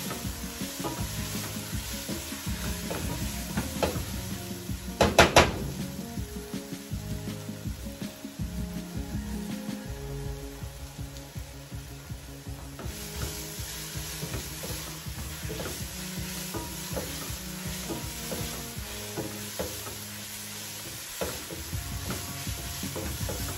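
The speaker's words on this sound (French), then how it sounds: "On va frire notre fumbois." Fumbwa leaves fry in a pan, giving a steady close sizzle that runs through the whole stretch, with scraping and clinking from stirring and one louder clatter early on.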